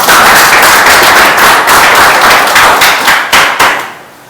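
An audience at a Rain BNB business seminar in Mandi, Himachal Pradesh, claps loudly in a dense, sustained round of applause. It ends with a few last scattered claps before fading out.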